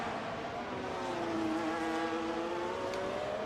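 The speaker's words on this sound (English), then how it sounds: "you can hear it decelerating initially before the braking" A Formula 1 car at Silverstone in British GP qualifying, heard on board as its engine note sweeps steadily downward while decelerating into Village corner before braking, a continuous loud whine with no talk.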